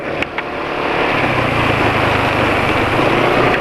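A small engine runs rough before an oil change with Meditran SX oil, a steady buzzing idle close by that rises slightly after a couple of soft clicks at the start.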